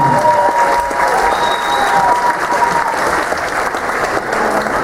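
Audience applause fills a cruise-ship show venue after a stage hypnotist's performance, steady dense clapping throughout with a few faint cheers and whistles mixed in.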